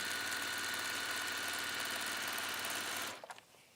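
A sewing machine stitches a scarf with blue thread in a steady, fast mechanical whir, running continuously up close for about three seconds before stopping with a few soft clicks; no talking.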